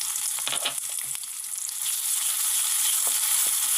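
Onions fry lightly in a pan of hot oil, making a steady, close crackling sizzle with a few soft stirring taps near the start and no talking.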